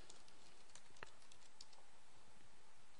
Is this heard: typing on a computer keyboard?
yes